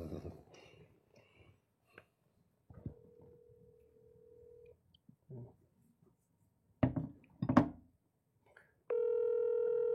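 A house phone being called on an outgoing line, with short bursts of handling noise and breaths, then a steady ringback or dial tone that runs at a constant level near the end.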